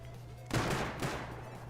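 A rocket fired in the video game Rust, a sudden loud blast half a second in that then spreads into a rumbling, crackling tail, heard close over a low steady hum.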